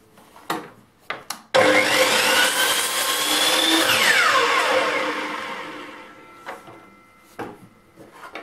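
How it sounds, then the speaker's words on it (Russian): A miter saw crosscuts a softwood bar, its motor spinning up with a sudden loud whine that holds steady for a few seconds as the blade passes through, then winds down, with a few sharp knocks of handling before and after. "Сейчас отторцуем брусок."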